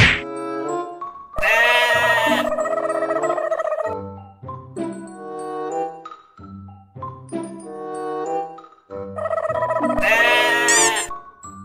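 A goat bleats loudly and close by in two long, wavering cries, one early and one near the end, with a string of shorter bleats and bright tinkling tones scattered between them.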